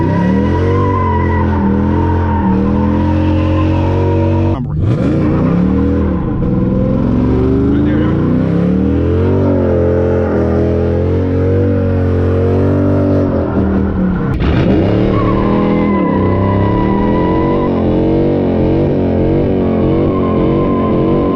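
A Dodge Challenger or Charger does burnouts, with loud, sustained tire squeals and high engine revving that rise and fall in long waves, broken by two sharp cuts where the footage changes.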